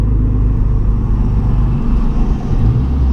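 Loud, close engine of a Honda Civic Si FA5 winding up into VTEC, a steady deep rumbling drone that builds slightly toward the end, with no talk.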